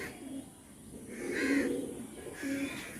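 Pigeons of a top-quality Kalsera Andhra breed coo in soft, low repeated calls, close by, against a faint background hiss.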